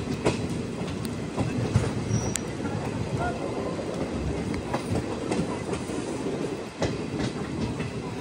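An Indian Railways special train pulls into Gola Gokarannath railway station with a continuous close rumble, rhythmic clickety-clack of wheels over rail joints and faint wheel squeal, steady and loud throughout.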